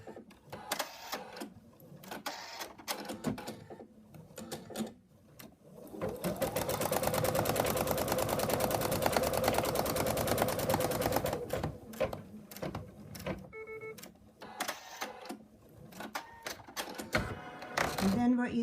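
An embroidery machine stitches an in-the-hoop wallet with a fast, even, rattling run of stitches for several seconds in the middle. A person talks before and after the stitching, with shorter bursts of stitching around it.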